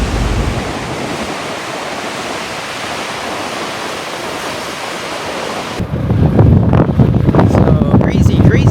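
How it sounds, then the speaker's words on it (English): Strong coastal wind blowing at Cape of Good Hope near rough surf, a loud roaring rush buffeting the microphone that grows heavier and more gusty in the final few seconds. "So crazy, crazy windy."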